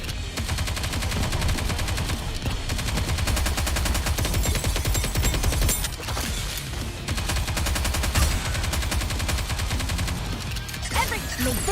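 Rapid automatic gunfire in a Nikke mock battle against enemy aircraft, dense bursts of shots running nearly nonstop with brief pauses, loud and close over game music and effects.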